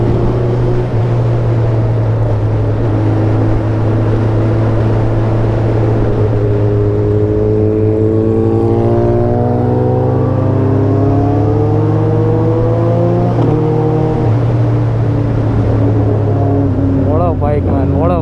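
Kawasaki ZX10R and Suzuki Hayabusa superbikes with loud exhausts on a night ride, engines revving with rising and falling pitch over a constant low drone, close and loud throughout.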